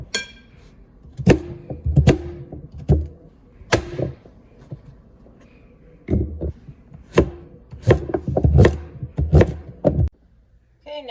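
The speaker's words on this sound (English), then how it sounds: "I like to cut the different vegetables different ways." A knife chops root vegetables for soup on a board, giving close, irregular thuds and knocks in short bursts separated by brief pauses.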